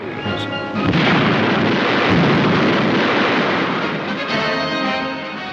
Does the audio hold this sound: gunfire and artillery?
yes